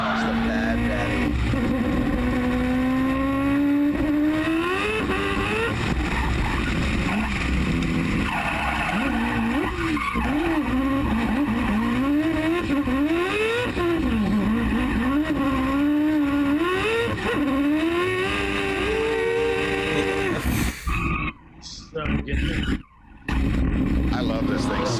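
Race car engine revving hard with sequential gear shifts, pitch climbing and dropping in repeated sweeps, loud and close, with voices talking over it before it cuts out near the end.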